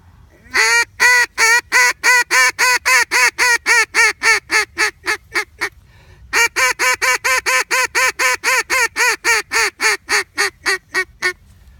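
A long call blown on a duck call: two runs of rapid, loud, honking quacks, about twenty notes each, separated by a brief pause, steady and close with no talking over them.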